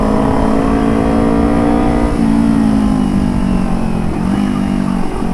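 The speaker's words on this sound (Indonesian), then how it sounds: "Wah, bunyi mobil." A car engine revs steadily and loudly, its pitch rising and falling slightly in one continuous drone with no talk over it.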